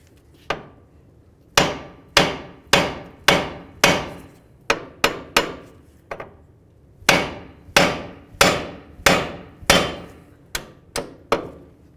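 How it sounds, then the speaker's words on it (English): Repeated sharp metallic hammer blows on the steering knuckle of a 2000-2005 Buick LeSabre ring out, struck in quick uneven groups with brief pauses between them, close and loud. "We'll use our hammer, and we're going to give it a couple loving bonks on the knuckle."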